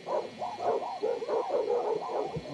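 Several dogs bark and yip in rapid overlapping bursts at mid distance, a busy, fairly loud cluster of barks with a brief whimpering tone, no talking heard.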